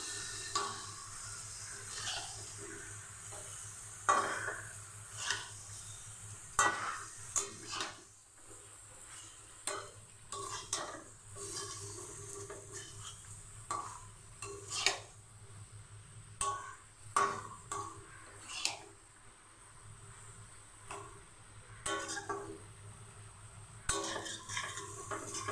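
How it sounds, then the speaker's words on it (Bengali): Chicken with yogurt being sautéed and stirred in a pan, with repeated clinks and scrapes of a spoon against the metal over a low, steady sizzle. "দইটা দিয়ে একটু কষিয়ে নিই"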